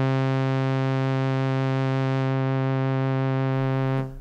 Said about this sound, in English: if you pull up the cello on Majuno 2, it sounds something like this